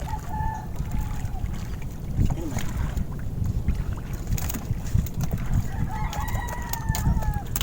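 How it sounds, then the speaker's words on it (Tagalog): At a fish corral, birds call and chirp intermittently over a busy outdoor background of rumbling and knocking, with a few short clucking or crowing sounds. "Yan mga birds."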